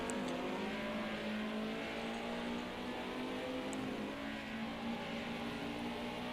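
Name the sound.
race car downshifting gears into a turn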